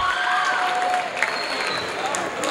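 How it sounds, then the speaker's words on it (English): Steady crowd applause at a girls' basketball game fills the whole stretch, dense and continuous, with cheering voices rising above the clapping now and then. "Getting a well-deserved applause."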